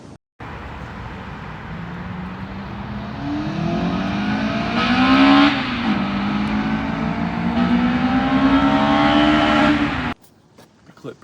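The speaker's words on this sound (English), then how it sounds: "I'm actually going to put a clip right here of what the car sounds like" A 2005 Toyota Corolla XRS engine revs up and down in a steady run of throttle blips, loud and close, with its rising and falling pitch filling about ten seconds before cutting off.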